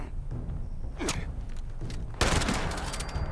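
Shotgun blasts in the online video game Fallout 76, a couple of sharp reports over a busy game soundscape, the loudest a close, heavy boom near the end.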